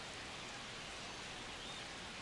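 Rain on a night baseball game in MLB The Show 25, a dense, even hiss of steady rainfall with no distinct drops, faint and continuous without talk.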